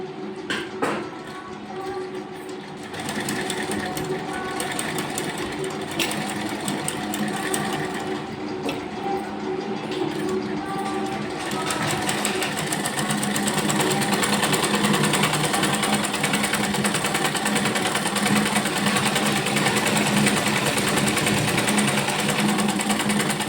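A sewing machine runs steadily, stitching lace onto fabric along a folded corner, with a continuous mechanical whir that starts a little softer and holds at a fairly loud level throughout, with no talk.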